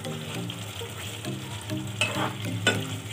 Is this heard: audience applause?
no